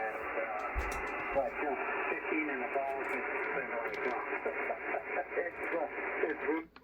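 Ham radio audio plays through the small built-in speaker of an ICOM radio, a thin, band-limited voice talking over constant hiss and static.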